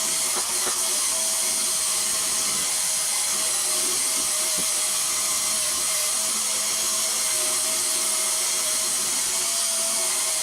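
A cordless Turbo Scrub power brush scrubs a kitchen hob with a steady, unbroken whirring hiss that carries on without pause.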